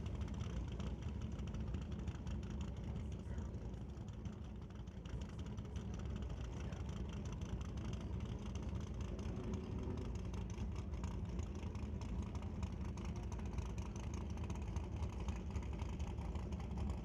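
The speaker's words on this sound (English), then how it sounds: "Just waiting for the boys to get the Mustangs backed up" Several Ford Mustang drag cars idle at a door-car drag racing event after their burnouts, giving a steady, fairly faint low engine rumble that goes on without a break for about seventeen seconds, with no talking.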